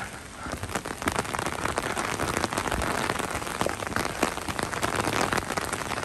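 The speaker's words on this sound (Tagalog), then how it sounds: "Palakas na ng palakas ang ulan." Heavy rain falls in Durlach, Germany, a dense, steady patter of drops striking hard surfaces close by, building slightly in intensity over several seconds with no voices.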